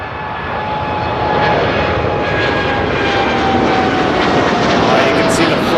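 A passenger jet comes in low over Toronto airport to land, with a loud, sustained engine roar that swells and holds, and a person's voice partly under the noise.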